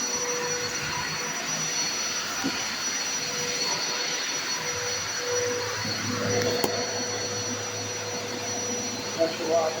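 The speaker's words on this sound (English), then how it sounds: "Pressure washer." A pressure washer sprays a car engine bay during detailing with Dark Fury cleaning solution, giving a steady loud hissing whine with a constant tone, running without pause for the whole stretch.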